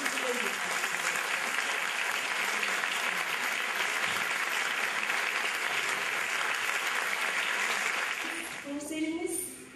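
Sustained audience applause fills the concert hall at a Turkish classical music choir performance, dense steady clapping that fades near the end as a voice begins speaking.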